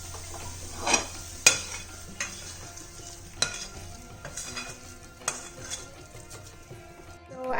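A coconut and jaggery laddu mixture is scraped from a hot pan onto a plate. Scattered metallic scrapes and clinks of a spoon against cookware sound over a soft, steady background for several seconds.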